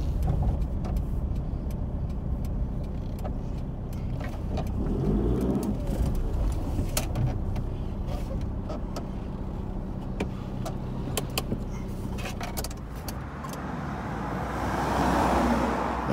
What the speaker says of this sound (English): I'm just going to pull up on the side of the road here